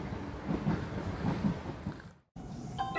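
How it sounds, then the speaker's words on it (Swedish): A late-evening commuter train glides into Karlberg station in Stockholm with a low rumbling roll and rhythmic wheel thumps, moderately close. Then comes a brief cutout, followed by a faint high electronic chime. "Ett sent kvällståg glider in, passagerare går av och går igenom spärrarna."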